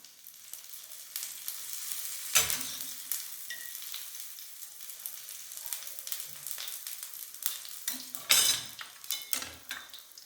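Appam sizzles and fries in a pan at low volume, with soft stirring and a couple of sharper clinks of a utensil against the pan as it is turned.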